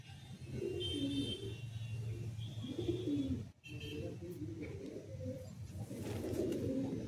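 Madrasi pigeons coo in a loft, soft repeated throaty coos close by, with a brief pause midway before the cooing resumes.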